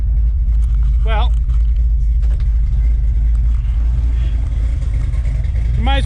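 A 327 V8 engine in an Impala with an untuned carburetor idles roughly while warming up after a cold start, a loud steady low rumble close by with a couple of brief squeaky tones over it.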